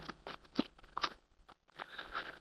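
Tarot cards shuffled by hand, producing a few quiet, close riffling and tapping bursts in short uneven groups with a brief pause between them.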